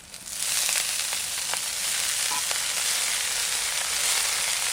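Piring greens hitting hot oil with garlic, onion and chilli in a pan, a loud steady broadband sizzle that starts abruptly and holds throughout, with faint scattered crackles and no voices.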